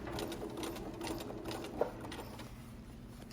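A sewing machine runs steadily at moderate speed, stitching a patch in a slow circular path, its fast mechanical chatter continuous and close with a brief sharp click partway through.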